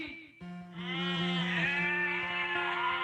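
A live folk singer from a village in Madhepura imitates goats bleating with his voice, producing sustained, wavering, nasal bleat-like tones that swell and hold over a steady low drone for about three seconds.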